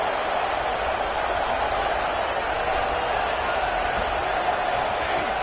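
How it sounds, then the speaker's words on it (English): A football stadium crowd makes a steady, distant roar during a Stanford vs Notre Dame game, cheering to help the defense in the red zone, with no sharp peaks throughout. "the crowd coming to life here, trying to help this defense down in the red zone"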